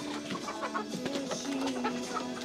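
Chickens on a cage-free chicken farm in Naga City, Cebu, clucking in short, scattered bursts at close to middle distance.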